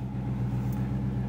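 A Dodge Charger R/T Daytona with a 5.7 Hemi V8 idles with a deep, steady rumble right after starting, loud and close with no talking.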